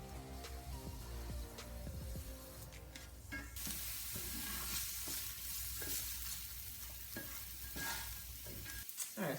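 Onions and peppers frying in shimmering hot oil for vegan pineapple couscous on a camp stove, a dense close sizzle with a burst as they hit the pan, then scraping stirs breaking through the crackle.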